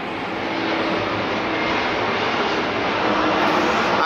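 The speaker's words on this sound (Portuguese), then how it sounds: "Avião!" An airplane passing overhead, a steady, loud broadband engine roar that holds constant and swells slightly toward the end, with nothing else audible.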